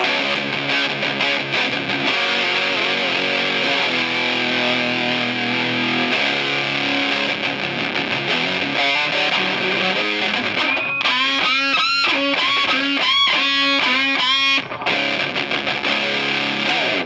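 Electric guitar driven through a Rat distortion pedal, playing loud, saturated chords and sustained notes that thicken into dense, sharply picked bursts toward the end, with no voices.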